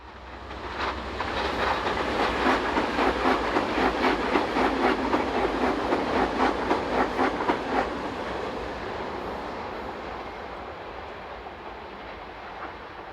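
A Swiss Class 500 intercity train passes close by, its wheels clicking rhythmically over rail joints for several seconds before the rumble fades into a steady receding roar.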